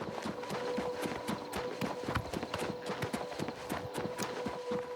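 Horse hooves clip-clop at a steady, brisk pace in the video game Oblivion Remastered, even and continuous, with a faint background tone beneath.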